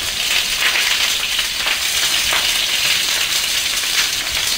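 Food frying in oil so hot it is close to burning, in a pan, makes a loud, continuous crackling sizzle like heavy rain that stays constant with no voices over it.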